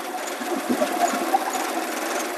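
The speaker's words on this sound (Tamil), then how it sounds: "இன்ஜின் நாய்ஸ் கேட் டேங்க்னாலே உங்களுக்கு தெரியும்." A petrol car from 1997 runs steadily, giving a faint, even engine hum with a light mechanical whir and no clear revving, heard close up without any talk.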